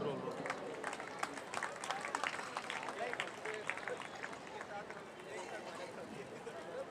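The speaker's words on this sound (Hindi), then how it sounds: "जोरदार तालियां" An audience bursts into sustained applause and crowd noise at a Hindi hasya kavi sammelan (comedy poetry gathering) in Kalamboli, Kharghar. Dense, scattered claps continue steadily throughout, with voices mixed into the crowd.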